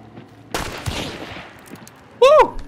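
PAX True Shot gunfire in Hunt: Showdown, one sharp, loud report with a long decaying echo, followed near the end by a brief excited voice over game ambience.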